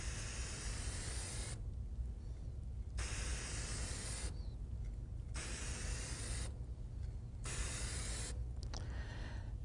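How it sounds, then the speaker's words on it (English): A spray paint can coats the body of a model dragster in repeated bursts, each a loud, close hiss lasting a second or two, separated by short pauses, with a final brief spurt. "depress the valve and then move the can across the body of the dragster like this"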